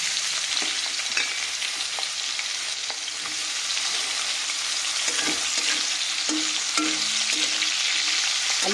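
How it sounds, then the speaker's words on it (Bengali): Cut potatoes sizzle steadily in hot oil in a pan while being stirred for a khesari saag dish, with a constant close frying hiss and scattered scraping knocks of the spoon, no voices. "দিয়ে দিলাম প্রথমে কেটে রাখা আলুগুলো।"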